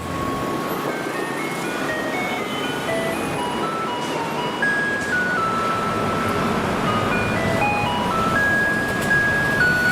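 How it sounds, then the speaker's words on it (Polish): A Taiwanese garbage truck plays its melody in the street, a steady tinkling electronic tune that sounds like an ice cream van, running for the whole stretch over a constant background of traffic and city noise. "Ta muzyczka, którą słyszycie w tle, to nie dostawa lodów jak u nas, tylko śmieciarka."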